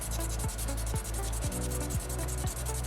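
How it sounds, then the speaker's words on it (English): Soapstone carving being hand-sanded with sandpaper: steady, close scraping strokes in an even back-and-forth rhythm of about two per second, with no voices. "All about consistency with that first sanding stage."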